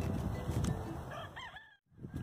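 A chicken clucks and calls close by, a few throaty notes rising and falling, with farmyard background noise and a brief quiet gap.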